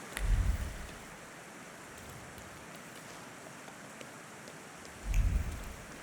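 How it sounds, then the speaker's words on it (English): Heavy rain in the video game The Thaumaturge, a steady low wash of downpour with two deeper rumbling swells near the start and end, quiet and without speech. "it's raining even more?"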